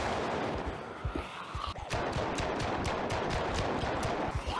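Rapid gunfire from a firearm in the zombie survival video game Project Zomboid, a fast run of sharp shots that is fairly quiet and sits under continuous background noise.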